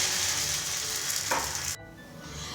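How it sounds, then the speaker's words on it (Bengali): Mung dal patishapta crepes frying in a pan, a steady close sizzle that stops abruptly partway through, then quieter background hiss. "এইভাবে আমি সমস্ত পাটিসাপটাগুলো ভেজে নিয়ে আসছি।"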